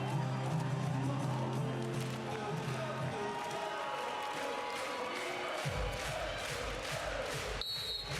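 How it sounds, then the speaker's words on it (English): Crowd at a beach volleyball world championship match in Hamburg, a dense roar of cheering and noise from the stands with a commentator's voice over it, swelling and shifting before cutting off near the end. "The crowd in Hamburg. Incredible."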